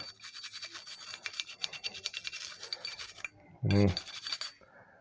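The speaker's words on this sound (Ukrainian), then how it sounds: "Чистимо тут де бойочок." Brush scrubbing the firing pin area of a Colt 1911 pistol, a quick run of close scratchy strokes with one louder knock near the end.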